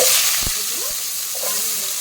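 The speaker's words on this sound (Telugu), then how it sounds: "ఆనియన్ బాగా ఫ్రై చేసుకోవాలి" Onions frying in hot oil for a mutton keema balls curry, a loud close sizzle with a couple of sharp spoon knocks as they are stirred, no talking.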